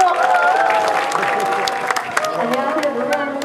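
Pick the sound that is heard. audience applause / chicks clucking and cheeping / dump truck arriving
audience applause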